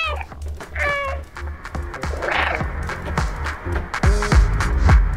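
A cat meows repeatedly in the Stray video game, several clear rising calls close and loud over a low electronic hum and background game noise.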